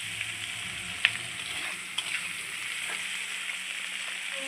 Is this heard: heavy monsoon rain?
no